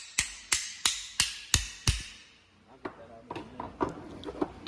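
A hammer taps a socket to seat a suspension bushing in a Honda CRX, five sharp evenly spaced metallic strikes close by, followed by lighter scattered taps and clinks with quiet talk.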